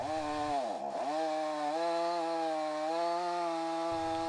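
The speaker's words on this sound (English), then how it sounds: "that's what I'm doing, is trimming that extra length" A chainsaw trims the extra length off the end of a cherry wood burl, its engine held at a loud, steady high whine as it cuts through the wood for most of the clip, with a brief dip in revs early on.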